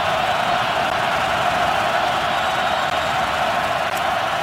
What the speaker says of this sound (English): Crowd stamping its feet.